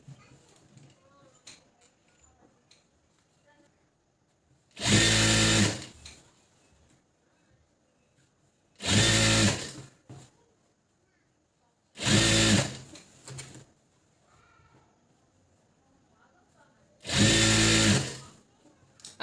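A sewing machine stitching Patiala pants in four loud, rapid bursts of a few seconds each, separated by quiet pauses with faint handling noises.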